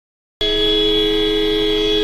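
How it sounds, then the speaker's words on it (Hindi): A car horn held down continuously, starting abruptly and then sounding as a loud, steady, unbroken tone close by with no other sound over it. "हॉर्न दबा के रखा, क्या बता जाएंगे"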